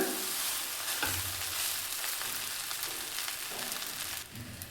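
Vermicelli bhath (shavige) being stirred slowly in a pan gives a steady, close sizzle with soft scraping strokes running throughout, with no voices.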